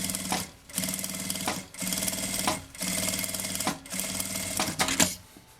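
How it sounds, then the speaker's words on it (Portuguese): A sewing machine stitches a fabric strip onto the edge of a bag in several rapid, loud whirring bursts, each cut off by a short pause. "vou passar uma costura com um pé de máquina"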